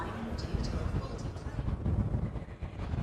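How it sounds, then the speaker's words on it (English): Wind blusters across open ground on Wallasey Island in Essex, a low gusty rumble on the microphone that rises and falls, with faint voices in the background. "Welcome to a very windy Wallasey Island."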